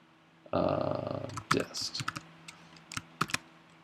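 A computer keyboard being typed on, with a short dense burst of keystrokes followed by scattered clicks, close by, while a voice talks over part of it.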